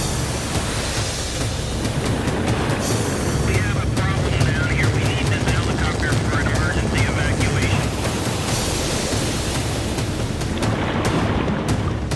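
Helicopter hovering low over a rough sea during the 1998 Eco Challenge adventure race in Morocco, a loud, steady rotor roar and thumping chop filling the scene, with voices faintly underneath.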